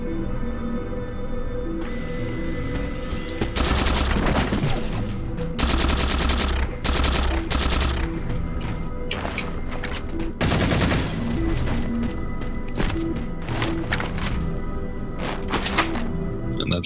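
Beam rifle fire in Halo 4 rings out as loud, sharp bursts in rapid clusters, mixed with thuds and other game gunfire over a steady background hum.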